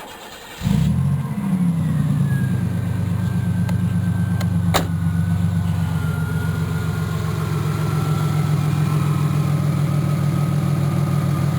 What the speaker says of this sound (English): I'm going to start this engine up for you right now.